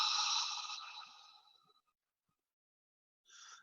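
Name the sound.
ha breathing, in through the nose, out through the mouth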